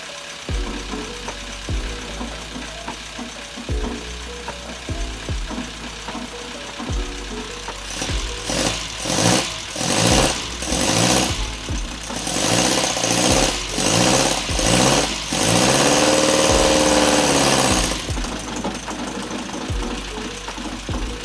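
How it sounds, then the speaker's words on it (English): An MG Midget engine, long abandoned and running roughly, idles with an uneven knocking putter, then revs up in several loud bursts and a sustained rise before settling back to idle. "So the engine's running, but not great"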